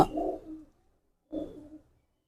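A pigeon held in the hand gives two soft, close coos separated by a short pause, in quiet surroundings.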